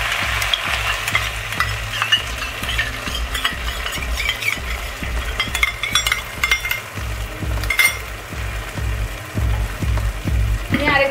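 A cornflour slurry in cold water goes into sizzling dry chilli paneer. Loud, close frying hiss runs under brisk, rhythmic stirring, with metal spatula clinks and scrapes against the pan throughout.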